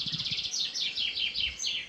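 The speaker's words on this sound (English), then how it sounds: "a chaffinch is different from the robin, the song thrush and the blackbird, and the fact that it sings a repetitive phrase all day" A chaffinch sings its repetitive song phrase, a quick series of bright chirps that run into descending trilled notes, moderately close and clear over a soft outdoor background.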